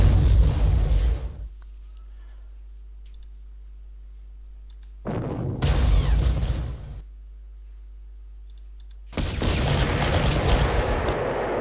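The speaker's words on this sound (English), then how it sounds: "We're going to get quite a lot of counter-battery fire." Artillery counter-battery fire in the Panzer Corps strategy game: three separate bursts of booming, crackling blasts, each lasting one to two seconds, separated by quiet gaps with a low steady hum.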